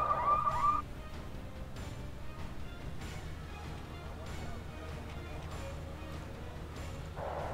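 A short electronic siren tone in the video game Wargame: AirLand Battle sounds at the start, then fades under a steady low rumble and scattered game noises, with a brief tone returning at the end.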